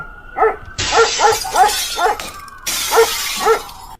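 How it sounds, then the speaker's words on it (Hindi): Dog barking at night, about eight sharp rhythmic barks close by, evenly spaced, with bursts of added noise and a crash layered between them. "जब कोई रात को कुत्ता भौंकता है"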